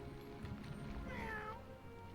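One short, clear cat meow from the video game Wizard101, rising and falling, close and fairly quiet over a soft background hum.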